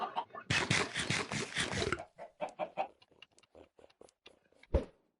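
Minecraft chickens cluck in short, separate bursts at moderate loudness, and a sharp cluck stands out near the end. A louder, denser noisy passage comes before them.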